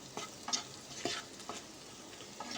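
Dried and green chillies with Kashmiri chilli powder fry in a pan for egg posto, with a few distinct scraping strokes of a spatula over a soft background sizzle.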